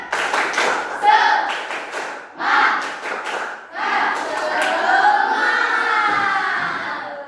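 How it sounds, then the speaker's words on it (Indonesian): A school group performs a spirited rhythmic clap routine, quick unison claps broken into bursts, followed by a sustained stretch of voices chanting or shouting together, close and energetic. "Sekarang tepuk semangat."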